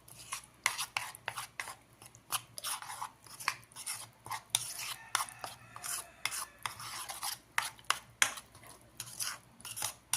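Stirring in a pan with red chili powder, garam masala, coriander powder and salt for soya chunks rice: quiet, rhythmic rasping scrapes repeat steadily, close and alone.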